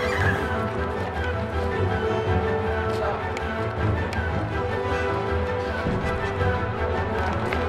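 A horse neighs and whinnies while its hooves clip-clop steadily, fairly close and continuous throughout, within a staged medieval Dutch play setting.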